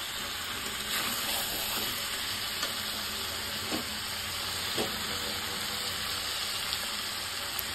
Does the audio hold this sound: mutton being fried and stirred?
yes